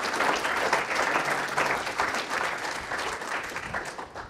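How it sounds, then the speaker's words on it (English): An audience at a panel discussion on Philip Roth applauds, a dense, even clapping that goes on for several seconds and then fades slightly toward the end. "If we could give them a nice round of applause."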